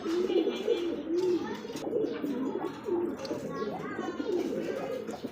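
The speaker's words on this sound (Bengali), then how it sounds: "কি কবুতর ভাই গোল্লা গোল্লা এত বড় সাইজের গোল্লা একদম রেড ইন্ডিগো রাজগোল্লা" Red indigo Rajgolla pigeons coo in repeated, close, low throaty phrases, with some light chirps. Someone talks over them at times.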